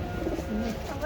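A pigeon gives a brief, low coo, close by and moderately loud, over faint background noise.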